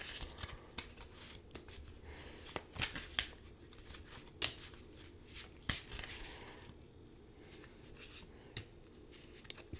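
A deck of tarot cards is shuffled close by, giving quiet repeated riffles and sharp snaps in irregular bursts over a faint room hum.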